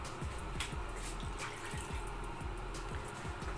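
Water poured into a pan of Ayala fish curry masala while cooking, a steady splashing fill heard close and alone over several seconds.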